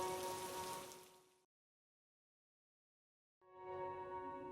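Steady rain falls on a surface at night, a dense hiss that cuts out abruptly into silence for about two seconds before resuming at the same level.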